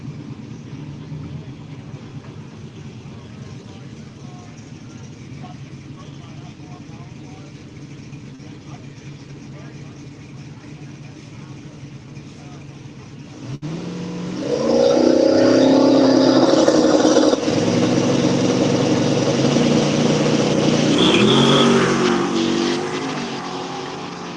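Drag racing cars, including a Cutlass, launch side by side in a no-prep bring-your-own-tire round, a distant engine drone swelling into a loud roaring pass that holds several seconds before fading.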